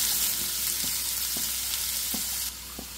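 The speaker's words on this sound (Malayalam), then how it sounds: "പിന്നെ ഇതിലേക്ക് ഞാനൊരു 2 വലിയ സവാള ഇതുപോലെ നല്ല ചെറുതായിട്ട് മുറിച്ചതാണ് ചേർക്കുന്നത്." Finely chopped onions frying in coconut oil in a pan give a bright, steady sizzle, with soft thumps of stirring at a slow, even pace. The hiss drops noticeably in level near the end.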